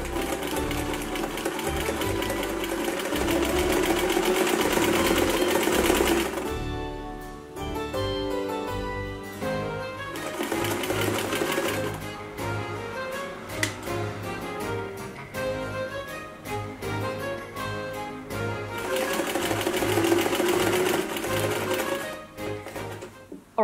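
A sewing machine runs in long steady bursts, stitching basted front and interlining layers for 18th-century stays, with brief pauses and restarts between runs; close, loud mechanical whirring and needle clatter, no talking.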